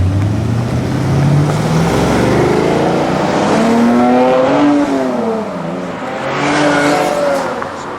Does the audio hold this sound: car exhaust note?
yes